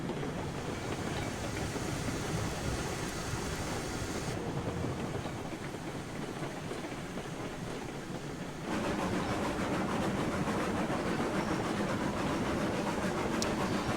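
Steam locomotive Betsy, a Climax engine in Railroad Online, runs along the rails with a steady rumbling roll and faint rhythmic clatter, continuous and fairly close, with no voices.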